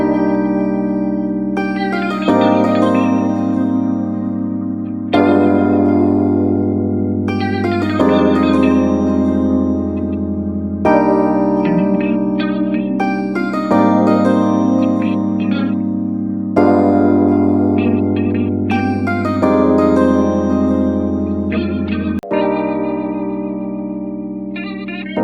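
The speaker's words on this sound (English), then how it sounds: "Now next up, I'm hearing an electric guitar." Funky electric guitar noodling in a G-Funk style beat, short bright phrases repeating every few seconds over a steady full mix with bass and drums, loud and close with echo-like effects.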